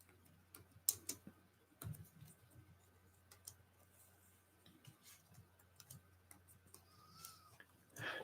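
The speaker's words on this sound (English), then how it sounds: "Just typing away right now" Someone types on a computer keyboard in a quiet room, producing sparse, soft, irregular key clicks that sound faint and close.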